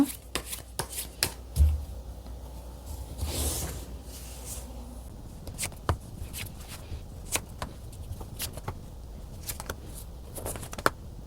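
Tarot cards are shuffled and drawn from a deck, giving scattered close snaps, riffles and soft slides across a surface over a quiet background, with no speech.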